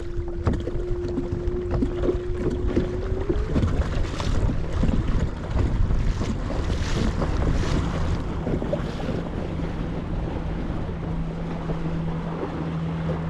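Ascend 133X tournament kayak driven by an NK300 motor on open water, a steady motor whine and hum under wind buffeting and splashing, with no voices.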